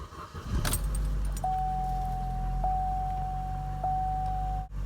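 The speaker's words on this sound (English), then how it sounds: "We're going to hop inside the car, start the engine, and let the engine warm up" A Chevy car's keys jangle before the engine cranks and catches, settling into a steady, close idle rumble while a soft dashboard chime tone repeats in the background.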